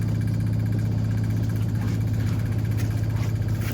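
A pump running on a seized Ski-Doo Rev 550 snowmobile that has sat since 2018: a steady, loud mechanical hum with a low rhythmic pulsing drone, constant throughout and close by, with no talking.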